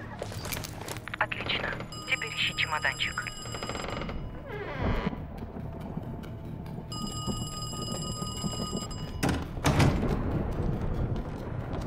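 A telephone rings in Call of Duty: Black Ops Cold War, with two separate bursts of a bright, trilling electronic ring amid game ambience, footsteps and a door-like clunk, while a voice speaks nearby.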